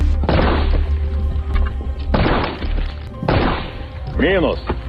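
Several heavy booming blasts, one after another, each with a rumbling tail, loud and close, with a faint voice near the end.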